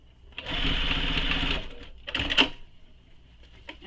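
A sewing machine stitches a backpack seam up close, one sustained whirring run followed by a short burst and a few isolated clicks as the fabric is adjusted.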